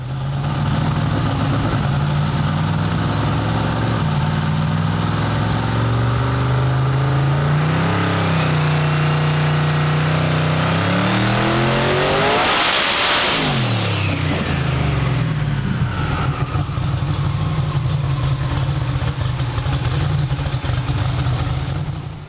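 A car engine revs up under load on a dyno, loud and close. It climbs steadily to a screaming peak, then drops back to a rough idle.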